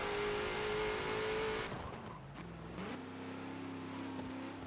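Ford GT40 engine in the Forza racing game, loud and droning at full throttle, dropping off sharply midway before settling into a steadier, lower engine hum.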